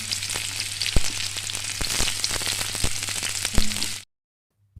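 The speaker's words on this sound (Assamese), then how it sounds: "পিঁয়াজটো গল্ডেন ব্ৰাউন হোৱালৈকে এনেকৈ ভাজি থাকিব লাগিব।" Three chopped onions fry in oil in a wok with a dense, close sizzle and scattered pops for about four seconds, then cut off to near silence. A low hum runs underneath, and no one speaks.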